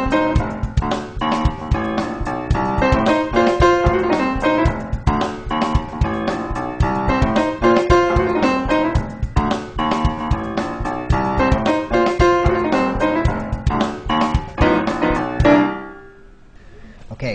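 Funk piano plays right-hand double-stop licks over a bass line and drums, a dense, rhythmic, loud groove that runs steadily before stopping abruptly near the end, with no talking.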